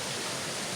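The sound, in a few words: waterfall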